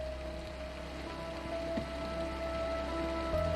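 Steady pouring rain in a scene from the TV series Riverdale, an even hiss of rain on surfaces with a constant low background hum, no talking heard.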